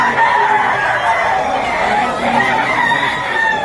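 Several roosters crow over one another at a busy chicken market in Lipa, Batangas, the calls loud and near, overlapping and continuous, with faint crowd murmur underneath.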